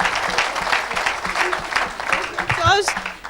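Church congregation clapping and cheering together in praise after a healing testimony, a steady dense burst of applause with voices rising through it, fairly loud and close throughout.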